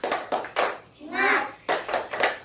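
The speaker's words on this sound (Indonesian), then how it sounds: "kita lakukan tepuk semangat dulu" Schoolchildren in a primary classroom do a rhythmic spirit-clapping chant: a quick burst of claps, a shouted child's word, then another burst of claps, all close and loud.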